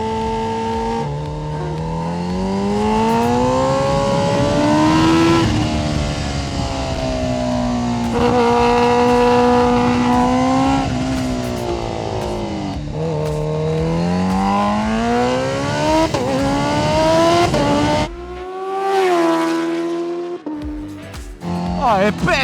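A powerful 700 hp Nissan GT-R engine revs and climbs through the gears on a race track, loud and close, pitch repeatedly rising and falling, then cutting out briefly near the end.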